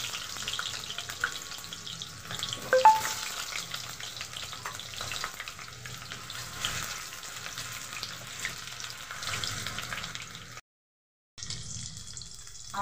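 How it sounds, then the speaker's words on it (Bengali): Potato pieces fry in hot mustard oil with mutton fat in the pan, giving a steady close sizzle and crackle throughout, briefly cut to silence near the end before resuming. "এবার আমি আলু ভেজে নেব।"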